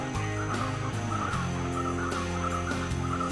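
Loud, repeated harsh calls of an anakwa bird ring out in quick succession over a constant droning background on a farm in Guyana, with no talking.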